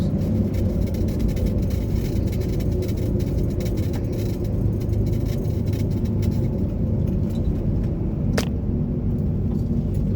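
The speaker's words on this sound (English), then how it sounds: "Still in second gear here. And there, downshifted." A Chevrolet Corvair drives along in second gear and then downshifts, its engine a steady loud rumble and whir from start to finish with a brief sharp shift noise near the end.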